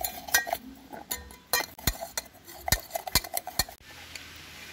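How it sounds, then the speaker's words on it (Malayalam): A spoon clinks and scrapes against a bowl while mixing a dalgona face pack with rose water, a quiet, irregular run of small taps and chinks. "നന്നായി മിക്സ് ചെയ്ത് കൊടുക്കാം."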